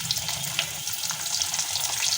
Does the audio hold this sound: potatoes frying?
yes